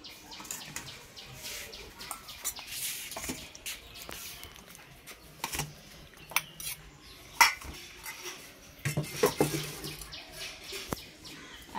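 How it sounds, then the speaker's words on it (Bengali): Ladle scraping and clinking against a pot while chicken curry is scooped into a large bowl, irregular metallic knocks and clatters with wet sloshing between them, close and fairly loud. "বড় বাটিতে আমি দেশি মুরগির ঝোলটা নিয়ে নিচ্ছি"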